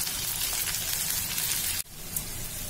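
Ginger, garlic, green chilli, onion and capsicum sizzle in hot oil with a loud, steady crackle that breaks off briefly for a moment before the frying noise resumes.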